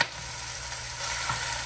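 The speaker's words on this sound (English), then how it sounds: "that's the sound of the ground beef being seared" Steady, even sizzle of ground beef searing in a hot pan, close and continuous with no talking.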